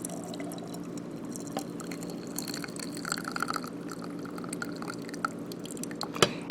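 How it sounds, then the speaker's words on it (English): Brewed tea is poured through a sieve into a small bowl, a soft close trickle with scattered drips and light splashes, quiet and continuous without any voices. "pour it into a small bowl like I showed you, or a small teapot like this, through a sieve that catches the tea leaves."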